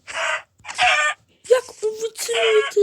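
Chickens in a video game cluck and squawk in several loud, close bursts separated by short pauses, one call rising like a crow.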